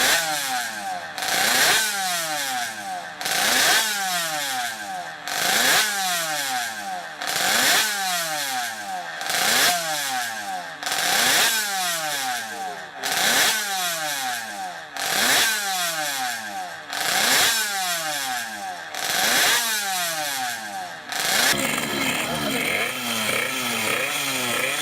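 A Morbidelli 50cc two-stroke racing motorcycle engine screams through repeated rising revs, about ten sharp climbs in steady rhythm, loud and close, ending in a rougher burst.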